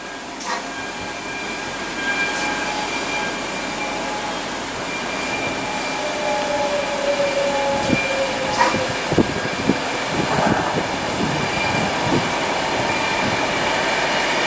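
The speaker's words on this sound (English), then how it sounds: "Next train arriving in is a class 390 bound for London Euston." A Class 390 train bound for London Euston pulls into Warrington Bank Quay, with a low rising rumble, rattling wheels and brief squeals as it draws near and slows.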